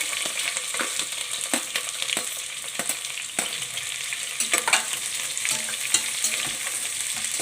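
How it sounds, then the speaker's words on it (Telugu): Green chillies, onions and cashews frying in a pan, a bright continuous sizzle with frequent clicking spatula stirs close by and no talking. "సో ఇది కొంచెం ఫ్రై అయ్యాక కదా ఇప్పుడు పచ్చిమిర్చి అండ్ ఆనియన్స్ కూడా వేసుకుంటున్నాము"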